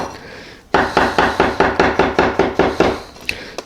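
A Vosteed Minibarbar cleaver knife chops food on a cutting board, about eleven sharp, evenly spaced thunks in quick rhythm, close and loud with no talking.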